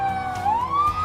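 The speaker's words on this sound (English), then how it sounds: "They could turn the siren down a little." A police siren wails loudly at close range during a Fourth of July parade in Ketchikan, its tone rising steadily as it echoes through a tunnel.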